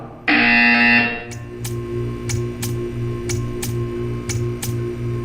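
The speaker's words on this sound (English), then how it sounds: "When you hear the buzzer, stare at the art." In Portal 2, a harsh electronic buzzer sounds once, followed by a steady run of regular ticking clicks over a low mechanical hum.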